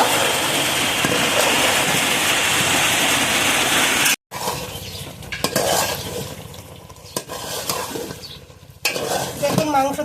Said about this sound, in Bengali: পানিটা দিয়ে মাংস আবারও কষিয়ে নেব।